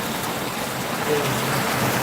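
Steady broadband rain hiss fills the whole stretch at even loudness, with no distinct drops standing out and faint traces of voices in the background.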